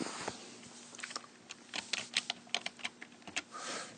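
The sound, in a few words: typing an address on a computer keyboard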